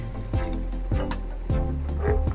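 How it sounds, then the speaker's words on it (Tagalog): Water poured into a pan while cooking sweet and sour lobster, with gurgling, bubbly splashes in several uneven surges, close by and steady, with no talking. "maglalagay na tayo ng tubig."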